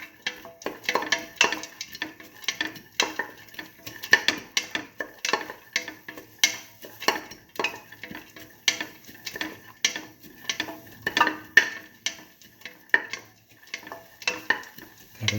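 Split mung beans with turmeric stirred in a pan, a busy run of clinks and scrapes from a utensil against cookware repeating in uneven rhythm, close and fairly loud, with only a faint sizzle underneath.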